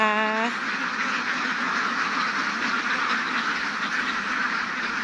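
A large flock of ducks quacks continuously, a dense, steady chorus with a brief louder honk at the start.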